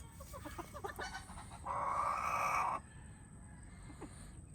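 A chicken at a tiny house in the Philippines gives a short run of clucks, then a sustained loud call for about a second, with softer rustling and one last faint note after it.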